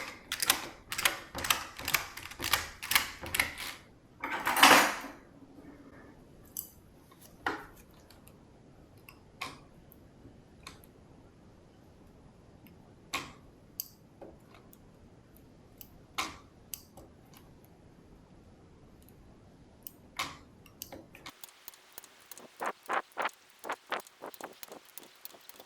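A domestic knitting machine carriage clacks as stitches are bound off on a summer top, with a fast run of mechanical clicks at the start, then sparse ticks spread through a quiet stretch and a denser rattling run at the end.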